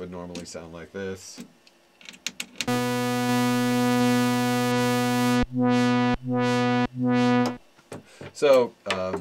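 ARP 2600 synthesizer sawtooth wave run through the 4012 filter: a loud, buzzy sustained tone held for a few seconds, then cut into three shorter bursts, with talk before and after it.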